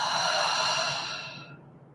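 A long, slow exhale after a deep breath into the lower belly, a soft close breathy rush that holds steady and then fades out into silence.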